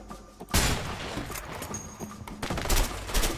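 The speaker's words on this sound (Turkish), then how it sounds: "sana sıkıyorum" Gunfire in the co-op action game A Way Out: a dense fusillade of loud, rapid shots with heavy thumping bursts, sustained and up close throughout.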